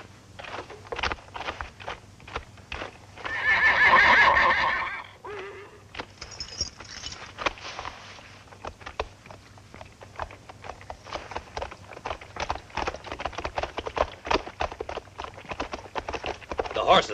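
Hooves clip-clop steadily and close by for a horse-drawn departure in a 1961 sword-and-sandal film scene, with a brief louder rush partway through and voices speaking over the trotting.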